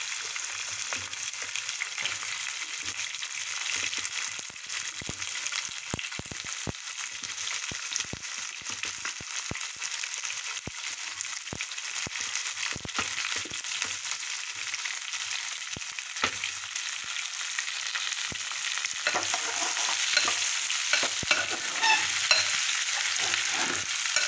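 Onion fries in a pan with a constant, even sizzle that holds throughout, soft stirring scrapes mixed in, and no voices.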